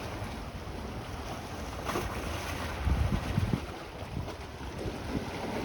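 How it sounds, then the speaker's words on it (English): Steady rush of surf and wind with low rumbling surges as waves break against rocks at Bluffers Park on Lake Ontario in Scarborough, Toronto, a heavier crash around the middle. "The waves crashing right into the rocks."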